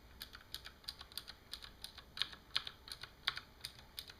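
Clicky Cherry MX Green mechanical keyboard switches typed at a steady, moderate pace, each keystroke a sharp, fairly quiet click in a regular rhythm with no voices.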